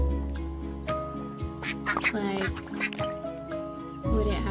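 Cartoonish geese and goslings quack and honk in the cozy diorama puzzle game Woodo, a run of short, close calls of varied pitch over soft game music and a voice speaking.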